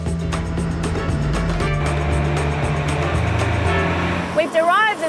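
A garbage truck collecting mixed waste rumbles with a low, steady engine drone and shifting mechanical hum, close and loud, while a voice talks over it near the end.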